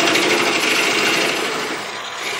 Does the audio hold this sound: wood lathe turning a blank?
yes